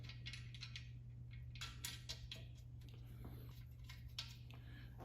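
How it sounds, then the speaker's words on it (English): Bolts on a table-desk leg being tightened with a Phillips screwdriver, soft irregular clicking and metallic ratcheting scrapes over a low steady hum, quiet and close, no talking. "Tighten them with your Phillips screwdriver."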